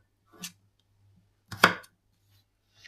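A knife cuts new potatoes into large chunks, making two crisp cuts about a second apart, close and clean against a quiet background, with no voices.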